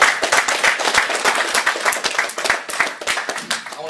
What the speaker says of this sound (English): these guys deserve a round of applause for even getting in the ring